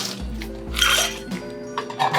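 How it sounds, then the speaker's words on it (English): Ice cubes clatter and clink into a glass mixing vessel while a martini is made, a few sharp knocks and rattles over roughly two seconds. "So we're gonna do a little ice."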